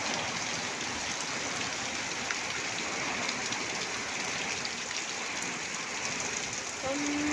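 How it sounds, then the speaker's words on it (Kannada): Heavy rain pours steadily over a yard with curry-leaf, coconut and neem trees in Kembhavi, a dense unbroken hiss that stays level from start to finish with no pauses. "ತುಂಬ ಜೋರಿದೆ ಮಳೆ."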